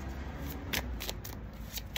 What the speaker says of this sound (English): These cards are easy because they're thin. They're easy to shuffle.